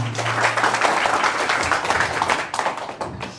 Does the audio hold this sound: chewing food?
no